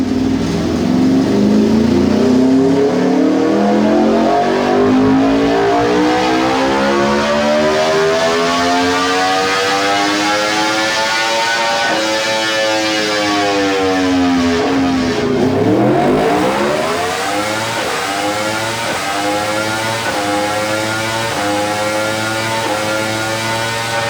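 An Aprilia RSV4 sportbike fitted with an SC muffler screams through loud dyno runs on a rolling road, engine pitch climbing steadily to a peak, dropping, then rising again in a second sweep.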